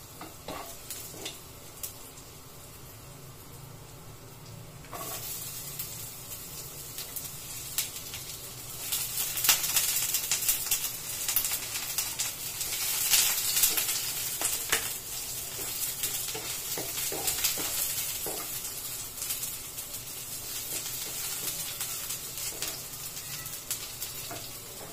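Garlic and ginger sizzling in a pan for Filipino ginataang manok (chicken in coconut milk), with a steady close crackle of frying that swells louder midway, broken by occasional stirring scrapes and faint running water.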